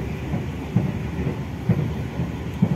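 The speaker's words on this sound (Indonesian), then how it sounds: "Nah kedengeran cuma suara boginya." Steady low rumble of a KLB economy-class train bogie rolling on rails, heard from a seat right above the bogie, with soft periodic thumps as the wheels cross rail joints.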